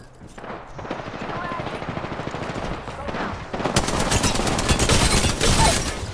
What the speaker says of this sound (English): Oh, he got shot at.